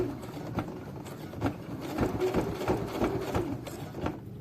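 A sewing machine stitches fabric for a 3D face mask, running in short, even bursts of rapid mechanical chatter that start and stop several times, close by and fairly soft.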